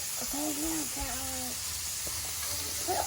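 Black beans and corn in a little hot olive oil give a steady, soft sizzle and hiss in a home kitchen, with a child's and an adult's voices talking over it.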